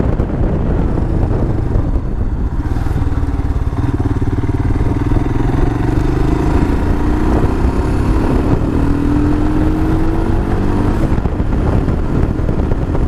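Royal Enfield Himalayan motorcycle pulling away and accelerating on a road, its engine note rising steadily under heavy wind buffeting, close and loud throughout with no talk.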